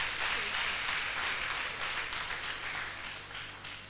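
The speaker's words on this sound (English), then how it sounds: "please, a round of applause for her" Audience applause for the first elected female chairperson at a University of Ibadan women's event: a steady, dense wash of many hands clapping at moderate level, sustained throughout and tapering slightly toward the end.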